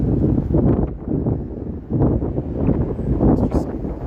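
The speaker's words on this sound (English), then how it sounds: "It's just too freaking cold and windy out here." Gusty, cold winter wind rumbles against the microphone in uneven, surging bursts on a Toronto city evening, loud and close throughout.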